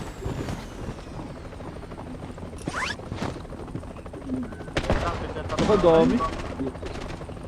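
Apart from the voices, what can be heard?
helicopter in a video game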